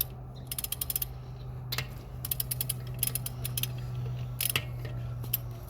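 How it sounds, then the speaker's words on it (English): A torque wrench tightening brake bolts on a 2017 Dodge Durango SXT to 130 foot-pounds gives off bursts of rapid ratcheting clicks in several separate runs, over a steady low hum in a workshop, with no talking. "So now we're going to torque these to 130 foot-pounds."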